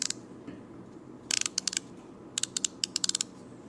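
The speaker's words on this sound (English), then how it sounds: "Excellent ratcheting mechanism." A Snap-on MRC1A ratcheting screwdriver, made in the USA, gives two separate bursts of rapid, crisp mechanical clicks. The clicks are close, in quick uneven runs, and quiet gaps separate them.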